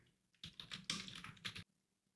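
Quick burst of typing on a computer keyboard, several fast clicks over about a second, close and quiet with silence around it.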